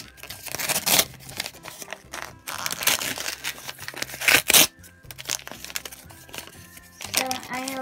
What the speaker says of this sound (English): it's wrapped in notebook paper